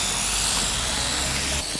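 A small drone's propellers give a steady, loud high-pitched whir outdoors, continuous for the whole stretch and dropping slightly at the very end.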